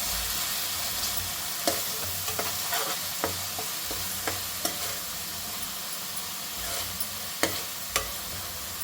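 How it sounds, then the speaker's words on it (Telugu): A spoon stirs Rohu fish curry ingredients in a hot pan, giving a steady oily sizzle punctuated by about a dozen sharp scrapes and clinks at an irregular pace, close and fairly soft. "ఇవన్నీ మొత్తం ఇలా కలిపేసుకోవాలి"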